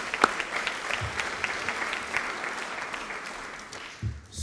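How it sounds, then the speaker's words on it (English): An audience applauds the judges at a university innovation expo's opening, a steady wash of clapping across the room that starts loud, holds, and tapers near the end. "How about a big round of applause for our judges today?"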